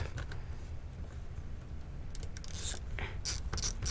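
Ratchet wrench working on an engine mount bolt from underneath a car: rapid clicking and ticking runs throughout, growing sharper and busier in the second half, close to the listener with no talk.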